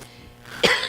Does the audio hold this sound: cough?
yes